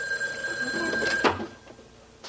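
A telephone rings in a 1981 television drama scene, a steady bright electronic ring held for over a second, then cut off by a clunk as the line goes quieter.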